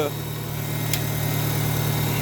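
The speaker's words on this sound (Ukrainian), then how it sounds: "моторчик працює рівненько, гарно" A 1996 Mazda 626 engine idles steadily with a low, even hum and faint mechanical noise, continuous and close, with a short high chirp partway through.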